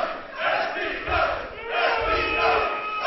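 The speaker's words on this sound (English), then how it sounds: "Listen to the crowd." A wrestling arena crowd roars and shouts in waves, a dense, distant-sounding swell of cheering that rises and falls over a few seconds.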